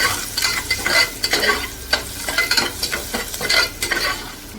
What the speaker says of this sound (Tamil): உப்பு சேர்த்து நல்லா வதக்கிக்கோங்க.